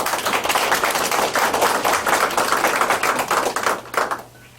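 A crowd at a Democratic Party rally in Sangdang-gu, Cheongju, claps loudly and continuously to welcome a parliamentary candidate, then the applause fades out abruptly near the end.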